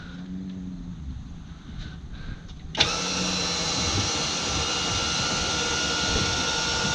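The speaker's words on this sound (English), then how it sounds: "Engine is ready to go on." A dinghy outboard engine starts abruptly partway through and settles into a steady, close, droning run, after a quieter stretch of background noise on a narrow channel.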